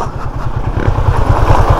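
Motorcycle engine chugging on a deep, rough trail at Mt. Lawad Adventure Park, close and loud with a rapid low pulsing rhythm that builds slightly in the second half.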